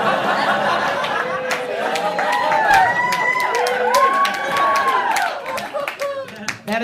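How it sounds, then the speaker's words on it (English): Comedy club crowd breaks into applause, with dense clapping, cheers and laughter swelling over several seconds and then thinning out, while a voice talks over it. "That is an applause break started by women and reluctantly joined in by men"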